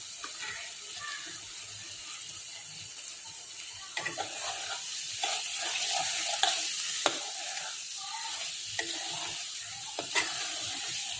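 A spoon stirs okra curry in a pan after a spoonful of yogurt goes in, giving soft scraping and a steady low sizzle, with light knocks of the spoon against the pan at irregular intervals.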